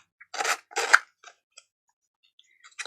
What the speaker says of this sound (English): If you're using scissors, obviously be careful.